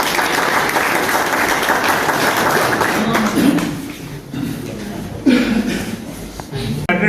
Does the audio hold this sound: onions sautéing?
no